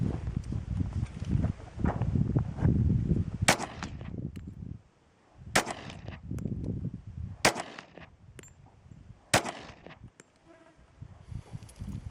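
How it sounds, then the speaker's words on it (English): SIG ACP pistol firing several single rounds outdoors, fired with and without a sling: sharp, loud cracks spaced a second or two apart, with low background rumble between shots. "We're going to go ahead and pop a couple rounds out of it"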